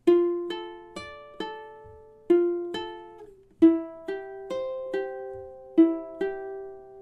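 Fingerpicked ukulele playing two measures of an etude, a steady run of about fourteen plucked notes ringing into each other, intimate and unaccompanied, with no speech.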